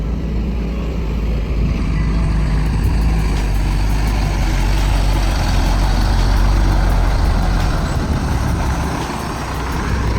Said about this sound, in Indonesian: itu dia raungan mesin Mercedes-Benz OM 926LA